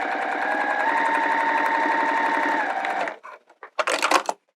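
A sewing machine stitches TPU vinyl at a 3mm stitch length, giving a loud, steady, rapid mechanical whir and needle clatter for about three seconds, then stopping, followed by a few short bursts of handling noise.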